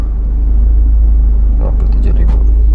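A Proton Gen 2 car engine idling steadily, heard up close as a loud, continuous low rumble, with a person speaking briefly over it near the end.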